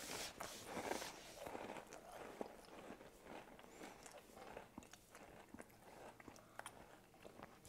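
Candied bacon crackers being bitten and chewed close up, a series of crisp crunches and crackles, faint and intermittent.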